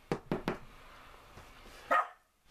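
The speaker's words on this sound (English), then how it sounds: "God only knows what that dog is barking at" A dog barks three times in quick succession near a hobby shed outdoors, then lets out one more bark a moment later, with no talk over it.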